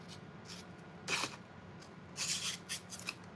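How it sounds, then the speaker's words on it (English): Sticky scissors cut paper in a few quick, crisp snips and rustles, close and quiet, with short pauses between cuts. "get my, like, sticky scissors out"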